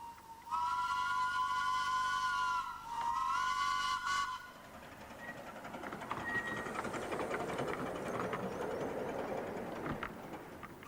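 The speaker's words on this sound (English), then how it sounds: "She's certainly the most powerful minimum gauge engine ever built in the world." A powerful minimum gauge steam locomotive on a North Wales line sounds a loud, sustained whistle in two blasts, then runs on with a rushing, rumbling roll of the train.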